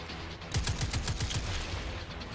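Rapid gunfire in the shooter game Destiny 2, aimed at yellow sacks, with about eight quick automatic shots in a tight burst at moderate loudness, followed by steady background game ambience.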